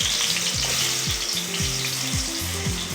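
A bread pizza topping mix sizzles loudly in a pan, making a dense, continuous hiss of frying close up, with repeated low scraping strokes as the mix is spread around.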